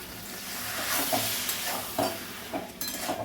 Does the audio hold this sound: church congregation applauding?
no